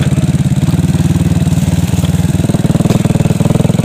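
A motorcycle rides along a narrow path through rice fields, its engine putting out a steady, close, rapid pulsing drone with a slight shift in pitch midway.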